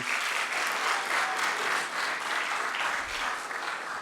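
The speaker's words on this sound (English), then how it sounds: "Please, a round of applause for our lady." A crowd at an engineering ethics lecture claps in sustained applause, a dense and steady patter of many hands continuing throughout.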